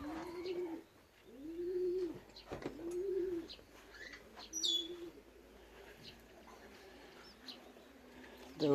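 Racing pigeons coo repeatedly at close range in their loft after returning from a 360 km race from Mława, with soft rhythmic coos, occasional chirps and a faint voice in the background.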